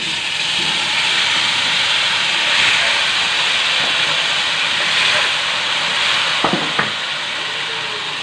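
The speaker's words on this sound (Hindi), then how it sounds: "इसे 1 से 2 मिनट तक हम फ्राई करेंगे" Korma frying with browned onions in a pot: a steady broadband hiss and sizzle throughout, with a few brief clinks or scrapes near the end.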